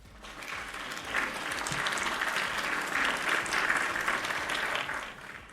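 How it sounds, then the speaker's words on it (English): Applause from a small studio audience marks a podcast's two-year anniversary, swelling in after a second and holding as a fairly close, even patter before easing off at the end. "We do have applause"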